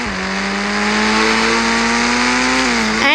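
Car engine in the Indian Bike Driving 3D video game, a steady loud synthetic drone holding one pitch with a slight rise, then shifting briefly near the end, with no talk over it.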